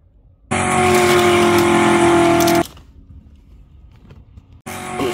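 Diecast toy cars, including a Ford F-150 Lightning dual cab and a Chevy, race down a downhill track in a Hot Wheels, Matchbox and Majorette tournament. A loud rolling rumble lasts about two seconds, drops to a quiet hum, then surges again briefly.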